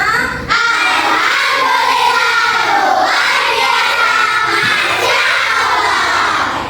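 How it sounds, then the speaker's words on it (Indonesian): A fourth-grade elementary classroom of children shouting a greeting in unison, loud and sustained for several seconds in a reverberant room. "Kurang semangat, kurang teriak."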